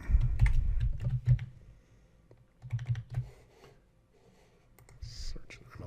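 Keystrokes on a computer keyboard come in short bursts of clicking with pauses between them, sitting close and fairly quiet, and a faint voice is audible in the background at times.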